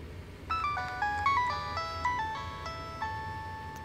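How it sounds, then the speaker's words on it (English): A Nokia tune ringtone plays from a phone as a sequence of clear, bright melodic beeps in a steady rhythm, moderately loud and close, with no talking over it. "This is the Nokia tune."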